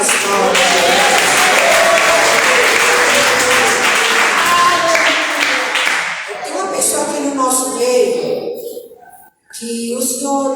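Congregation clapping hands together during a church service, a loud dense wash of applause that fades in the second half as voices and music come through, cutting off briefly near the end.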